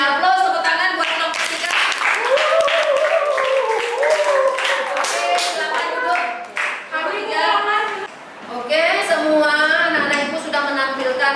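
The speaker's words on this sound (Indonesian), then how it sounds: "Aplaus, tepuk tangan buat kelompok 3." Students in a school classroom clap for a group after its presentation. The clapping is mixed with lively voices and cheering that continue throughout.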